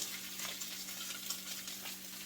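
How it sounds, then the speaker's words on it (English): Avocado oil sizzles and crackles steadily in a pan, a close hissing texture with small pops, no voices over it. "that's what you guys want to hear, that little sizzle."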